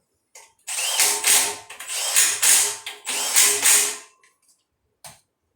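A power tool tightens bolts onto an oil pump while a K24A engine is mounted, heard as four close, loud whirring bursts of about a second each, followed by quiet and a few small clicks, with no talking.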